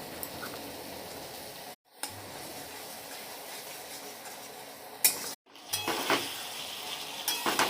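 Spiced potatoes frying in a pan with salt, coriander powder, Kashmiri chili and kasuri methi, a close steady sizzle with utensil scrapes as they are stirred, cut by two brief silent gaps, no talking.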